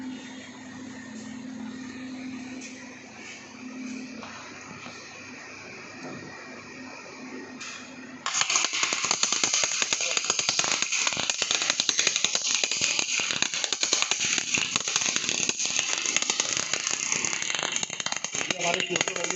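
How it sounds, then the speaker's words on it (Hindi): MAG (CO2) arc welding in a training workshop: after a quieter stretch a dense, crackling, sizzling buzz starts abruptly and holds steadily at close range for the rest of the clip. "तो अब आपको हम ये मैग वेल्डिंग करके दिखाएंगे"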